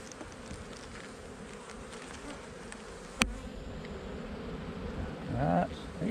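A dense, steady hum of many honeybees buzzing close by at an open hive during an inspection, with a brief sharp tap partway through and a louder buzz swelling near the end.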